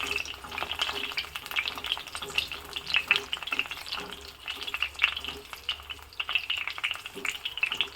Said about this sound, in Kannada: ಸ್ವಲ್ಪ ಬಾಡಿಸ್ಕೋಬೇಕು ತುಂಬ ಬಾಡಿಸೋ ಅಗತ್ಯ ಇಲ್ಲ ಬದನೆಕಾಯಿ ಬಣ್ಣ ಸ್ವಲ್ಪ ಚೇಂಜ್ ಆಗಬೇಕು